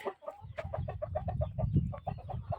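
Chickens cluck in a quick, steady series of short calls, close by and fairly loud, with no talking.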